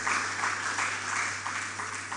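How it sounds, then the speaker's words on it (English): Audience at a public presentation on gender-based violence applauding First Ladies, a soft continuous patter of clapping over a steady low hum, moderately distant. "please, another round of applause for the First Ladies from the States"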